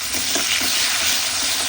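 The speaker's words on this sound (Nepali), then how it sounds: "म प्याज हालिदिन्छु, रातो भयो भने अलिकति पाउडर भइसकेपछि प्याज" Onion fries in a pan for a tuna curry, a loud, close, continuous sizzle with faint stirring underneath, brief and without speech.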